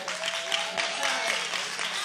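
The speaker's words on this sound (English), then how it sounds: "That's what a clap was supposed to be" A church congregation claps and applauds during a sermon, dense continuous clapping from a crowd filling the room without pause.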